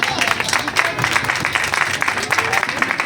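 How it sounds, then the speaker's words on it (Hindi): Loud applause from a crowd at a Christian worship convention, dense rapid clapping sustained throughout, with voices mixed in. "जोरदार तालियों में।"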